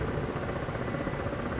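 A steady, droning helicopter rotor and engine hum from the flight simulator DCS: World, continuous and even in level with no breaks.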